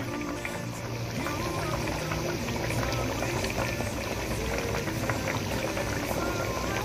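A fish curry with potato, papaya and snake gourd simmers in a cooking pot, a continuous close bubbling and gurgling of liquid without any voices.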